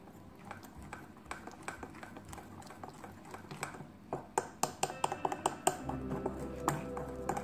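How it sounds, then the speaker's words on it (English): Appam batter being mixed with salt, soft close taps and stirring strokes in an irregular rhythm, quiet, with a low hum coming in toward the end. "Around 1/4 teaspoon of salt, or add salt as needed, and mix nicely."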